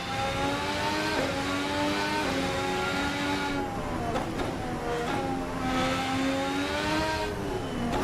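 A race car engine in the racing game Assetto Corsa EVO, revving steadily with rising and falling pitch as it shifts through gears, loud and continuous throughout.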